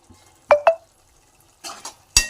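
A spoon stirs chopped tomatoes and coriander through a Nellore-style mutton and okra curry in a pot, giving two sharp clinks against the metal, then a softer scraping stir and a final clank, close up with no talk.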